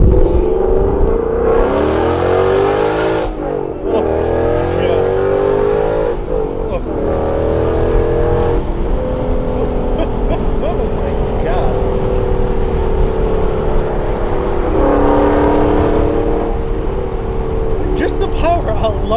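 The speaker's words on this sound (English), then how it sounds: "You hear the exhaust scream." A 2015 Ford Mustang GT's naturally aspirated V8 with a Corsa Xtreme cat-back exhaust roars and revs, its pitch climbing and dropping through several pulls, loud and close, with a voice speaking over it.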